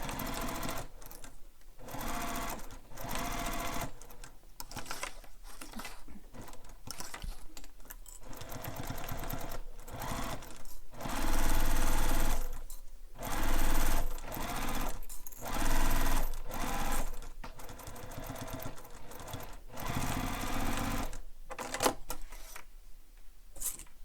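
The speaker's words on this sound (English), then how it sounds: "we'll sew this with the seam allowance given in the pattern" A sewing machine stitches a bag seam in rapid, loud mechanical bursts that stop and restart repeatedly over about 24 seconds, with short pauses between runs and no speech.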